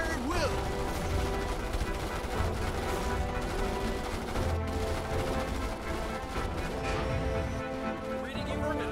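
Rapid bursts of gunfire from soldiers battling bugs in Starship Troopers: Terran Command, crackling steadily throughout alongside explosions, game music and voices.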